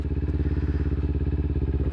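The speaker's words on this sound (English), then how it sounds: "When you shift down, your RPMs will fly up and your speed will start to slow" A motorcycle engine, in a high gear and slowing down, drones steadily and loudly up close with an even, throbbing pulse throughout the short stretch.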